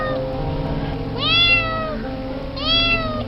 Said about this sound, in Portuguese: um gato ficava miando na porta da sala